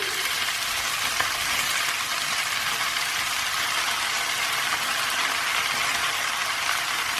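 Cabbage frying in a pan for an Indian cabbage and chickpea curry gives a steady, loud hiss of sizzling oil with faint scraping of stirring underneath, continuous and close.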